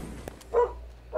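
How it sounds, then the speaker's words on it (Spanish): A dog barks twice in the video game Fortnite: two short, close, clear barks about half a second apart over a low steady hum, with no talking. "Oye, perros en Fortnite."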